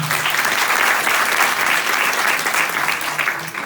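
Crowd claps at a university debate for a named guest, a full, even roar of applause from a large audience that holds steady throughout and tapers slightly at the very end.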